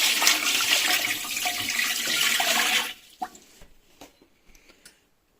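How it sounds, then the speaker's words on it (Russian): Water pours steadily and loudly into a Malinovka 3 home-canning autoclave on a gas stove for about three seconds, then stops, leaving a few scattered drips and small knocks. "Воды мы наливаем вот над этой крышкой."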